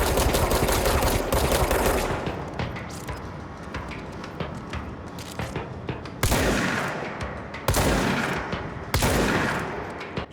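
A minigun in the game Control fires in long, dense bursts, a continuous rattling roar that pauses and restarts in several short, loud bursts toward the end.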